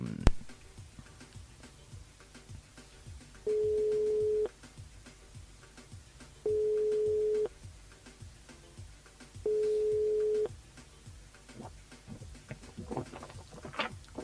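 A telephone ringing during a live radio call-in show: three evenly spaced long steady ring tones about a second each, heard over light background ticking, with no talking.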